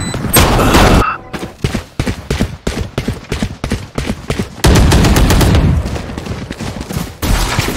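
Rapid bursts of gunfire from a shotgun in the tactical shooter game Valorant, loud and close, fired repeatedly in quick succession with brief gaps between shots and a dense sustained stretch near the end.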